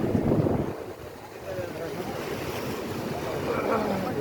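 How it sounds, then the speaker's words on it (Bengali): Surf rolls onto the Jeddah shore of the Red Sea on a breezy morning, a steady wash of waves with wind rumbling across the microphone throughout. "এটা হচ্ছে আরব সাগর, জেদ্দা সাগরের পাড়"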